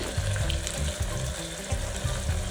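Ginger garlic paste frying in hot oil for ghee rice, giving a steady broadband sizzle with bubbly, watery texture that runs continuously throughout, fairly close and with no voices over it.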